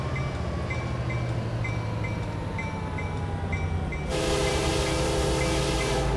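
Train Simulator 2013 locomotive in a derailment, with a steady rumbling train drone, repeated horn-like tones and a sudden loud burst of harsh noise near the end as the crash hits.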